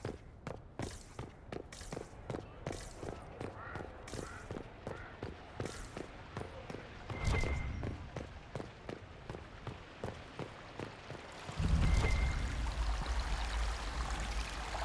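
A waterfall in Dragon Age: Inquisition runs as a steady rushing wash of water, joined by regular footsteps crunching along, with the rush swelling louder twice as the walker nears.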